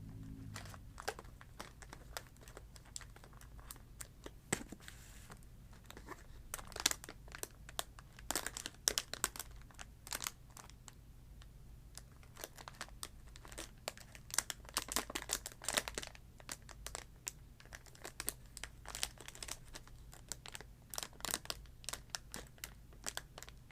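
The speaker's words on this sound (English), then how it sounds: "open up our little plastic bags" Small plastic bags of LEGO pieces crinkling and tearing open up close, in a soft-spoken ASMR setting, a long run of irregular quiet crackles and rustles over a faint low hum.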